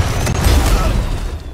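Grenade blast in the shooter game Valorant: a loud, booming low rumble that swells and holds for over a second before fading, with dense mechanical game noise around it.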